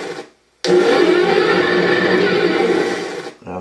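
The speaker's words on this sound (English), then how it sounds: "Turret rotation." A Benedini sound module in a Tamiya Battle System toy tank plays its turret rotation effect, a loud, steady mechanical whirring grind lasting about three seconds between brief quiet gaps, with no voices.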